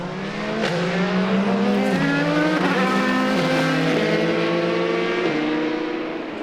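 Toyota and Alpine endurance race cars battle for the lead at Monza, engines screaming loud and close as pitches rise through gears with several sharp shift drops, a sustained high-revving roar.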